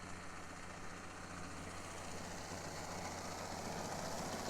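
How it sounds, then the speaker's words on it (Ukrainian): A combine harvester's engine hums during the grain harvest as a faint, steady, low rumble that holds level throughout, with no voices. "Якраз комбайн їде в цю сторону."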